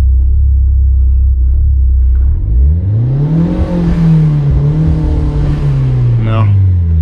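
A turbocharged Chevrolet Celta engine idles low, then revs up sharply, holds a high steady note and wavers before settling, loud and close, with someone talking over it.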